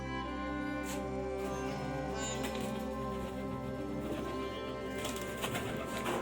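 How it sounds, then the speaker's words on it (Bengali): Pigeons cooing around a net-enclosed home space, soft low coos repeating under a steady background hum. "জাস্ট দেখুন, পায়রার অত্যাচারে আর থাকা যাচ্ছে না।"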